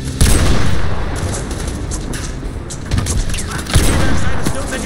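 Call of Duty MW2 Remake battle near the Washington Monument, with dense gunfire and booming explosions blending into a constant loud roar of combat, heavy thumps standing out near the start and end.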